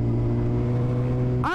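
A motorcycle with loud open exhaust and no dB killer, idling with a heavy, steady low rumble that stays close and loud, then a quick rising rev at the very end.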